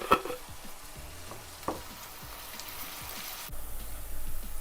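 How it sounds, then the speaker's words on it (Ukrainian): Onion frying in a pan and being stirred, giving a soft steady sizzle with a few scraping stir sounds, close and fairly quiet with no talking. "Все, наша цибуля вже підсмажилася до такого стану, як я люблю."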